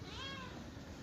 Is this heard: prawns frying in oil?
no